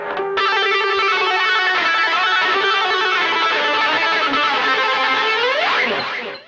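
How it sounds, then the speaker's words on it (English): Electric guitar pick tapping over A Dorian in a solo, a loud, continuous run of rapid distorted tapped notes with shifting pitches that ends in a rising squeal. "Okay, now we're off to the pick tapping section."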